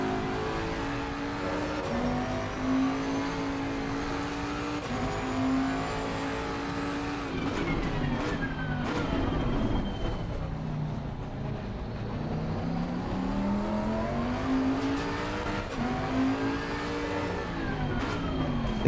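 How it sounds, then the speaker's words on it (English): Race car engines in the Gran Turismo 7 video game drone and rev continuously, pitch sliding up and down through gear changes with occasional sharp shifts, loud and steady with no speech. "The car sound dominates GT7."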